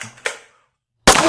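A toy Nerf pistol fires with a sharp, close pop, followed by a short silence and then a second loud burst of sound.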